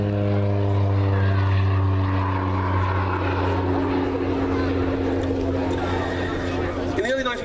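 Loud, steady droning of an OV-10B Bronco's propeller engines at the Duxford Air Festival, a deep harmonic hum running throughout and rising slightly near the end.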